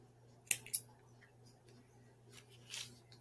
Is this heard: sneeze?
no